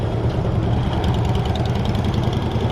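Several motorcycles from a motorcycle club convoy idle together, a steady low engine rumble with a light knocking texture, close and continuous with no talk.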